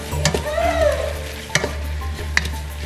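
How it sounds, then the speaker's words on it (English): Oregano, basil and tomato being stirred in a hot frying pan: a loud sizzle with scraping spoon strokes and two sharp clacks against the pan, close up. "So we're going to stir."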